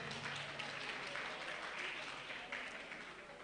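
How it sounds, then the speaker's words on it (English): A seated audience at an agricultural research review and planning workshop applauds a former vice chancellor, a steady patter of clapping hands that lasts a few seconds before tapering off, with faint voices underneath. "Round of applause for him."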